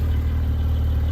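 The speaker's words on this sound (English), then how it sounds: "let's have a little listen to the exhaust on this thing" Porsche GT4 from 2022 with its exhaust rumbling on a cold start, a steady loud low idle drone holding evenly throughout with no voices.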